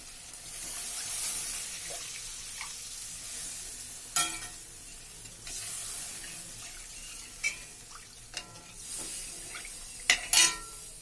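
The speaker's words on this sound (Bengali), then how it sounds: "এখন আমি জল দিয়ে দিচ্ছি" Water is poured into a hot pan for a taro kofta curry, leaving a soft sizzle and bubbling with scattered clinks and stirring taps, quiet and close, no voices heard.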